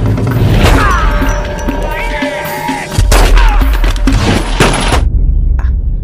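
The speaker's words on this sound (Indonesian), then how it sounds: "Dan disinilah terjadi adu tembak di antara mereka." Gunfight in an action film about a former special forces soldier and corrupt police, with loud volleys of gunfire, impacts and crashes layered over a music score, very close and intense.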